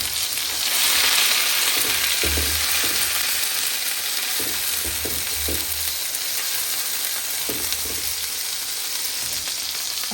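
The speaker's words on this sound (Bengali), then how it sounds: "একসাথেই মশলা কষাবো" Spices with turmeric and chili powder, salt, onion paste and garlic paste sauté in hot oil for chewa fish bhuna, making a dense, steady sizzle with intermittent low knocks and scrapes of stirring, close and sustained.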